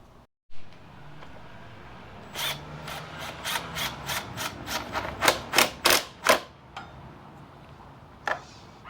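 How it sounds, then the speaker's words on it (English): A ratchet worked on the front wheel of a BMW C650GT scooter during a tyre change, giving a run of about a dozen sharp rhythmic clicks that grow louder, then a pause and one last click, with no talk. "I need the ratchet too."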